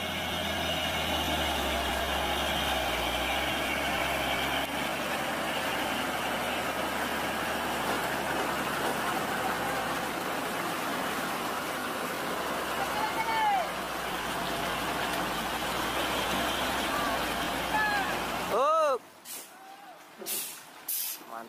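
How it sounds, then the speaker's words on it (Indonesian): A heavy palm oil truck engine drones steadily for a long stretch while towing with a cable, with faint squeals and creaks, before the motor cuts and a few sharp air-brake hisses follow. "Nah ini ada truk sawit dari RMS gardan 2 yang bantu menolong."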